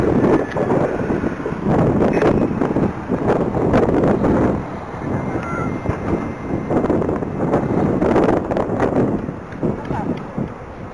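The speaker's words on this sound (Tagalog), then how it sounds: "Lakas na hangin!" Strong wind buffets the microphone during a Sky Surfer flight, a loud, rough roar that surges and dips in gusts for about eleven seconds.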